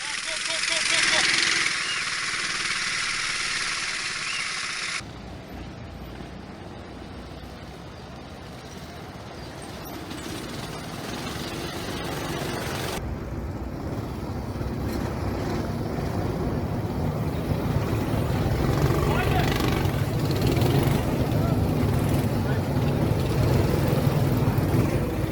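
Go-kart engines buzz around the track at a CR8 Racing Championship kart race as the green flag restarts the field, a continuous mid-level engine drone building slightly louder under ongoing commentary.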